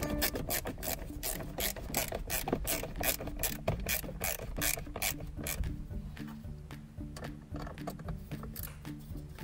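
A ratchet repeatedly clicks as it drives in the five screws holding the door trim panel on a Ford Focus 1 phase 2. The rapid pawl ticking runs steadily and close up with no talking, easing slightly toward the end.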